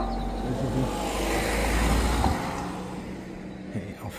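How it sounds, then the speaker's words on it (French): A car drives across a dam in the Mervent-Vouvant state forest. Its engine and tyre rumble swell close by, then fade as it moves away, with no talking. "Ah, une voiture."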